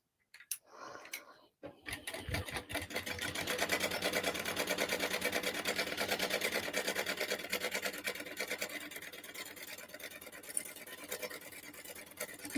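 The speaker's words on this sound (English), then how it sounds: "I am just going to sew down at that 3/8 of an inch, like on all 4 seams" A sewing machine runs steadily, stitching the seams of a crossbody bag at a 3/8-inch allowance. A brief rustle and handling come first, then a dense, continuous mechanical whir with rapid needle rhythm holds close and loud to the end.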